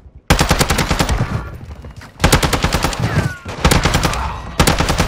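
Rapid automatic ISO Hemlock rifle fire from Modern Warfare II, loud and close, in several sustained bursts separated by brief pauses, with a faint voice underneath.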